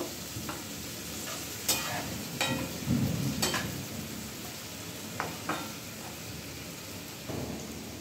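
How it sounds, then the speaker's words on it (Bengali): Sabudana khichuri ingredients fry together in a wok, a steady sizzle broken by scrapes and stirring knocks from a spatula, close and continuous with no talk. "এগুলো সব একবার একসঙ্গে মিশিয়ে ভালোভাবে ভেজে নেব।"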